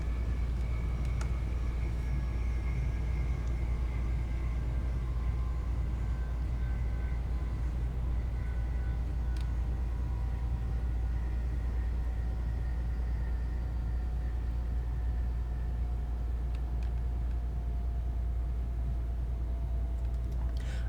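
A Class 185 diesel train braking in the Train Simulator Classic game on the Huddersfield Line, with a steady loud low rumble and a slowly falling whine that carries on unbroken with no talking.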